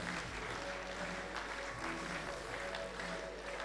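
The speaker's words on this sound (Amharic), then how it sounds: "ሞቅ ያለ ጭብጨባ ባካችሁ።" An audience at a Grand African institutions and leadership award ceremony gives a continuous, even round of clapping, heard from a little distance with no pauses.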